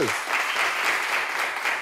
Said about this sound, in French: Applaudissements pour Précieux.